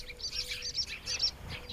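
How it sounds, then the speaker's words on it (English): Birds defending their home range chirp and sing in the growing morning heat, a run of bright, rapid twittering phrases repeating close by over a soft background hum. "Some birds still sing to defend their home range"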